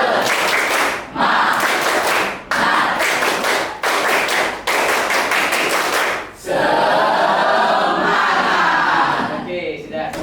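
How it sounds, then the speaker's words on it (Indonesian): A classroom of students standing together performs a rhythmic spirit-clapping routine, bursts of loud unison claps broken by short pauses, ending in a looser crowd cheer and chatter. "ice breakingnya tepuk semangat"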